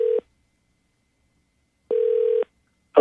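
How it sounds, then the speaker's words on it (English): Two rings of a telephone call sound one after the other, each a steady held electronic tone separated by silence, clear and close, as the line rings through to someone on a radio show. "it's ringing."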